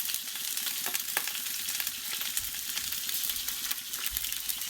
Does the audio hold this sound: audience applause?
no